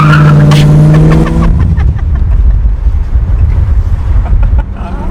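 A 1981 Chevrolet Camaro with a 350 crate engine revs loudly, then its rear tires spin in a roaring, rasping burnout with heavy wind buffeting, close and alone without talk.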